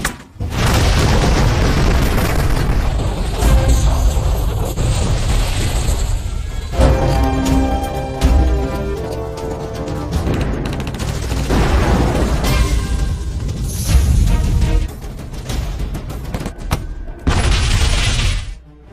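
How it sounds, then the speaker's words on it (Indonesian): Film battle scene of a sniper team blowing up enemy oil drums: continuous loud booming explosions and gunfire with crashing debris and a dense roaring wash, layered with music, sustained throughout. "tim sniper yang telah bersiap di posisinya mulai meledakkan drum minyak milik musuh"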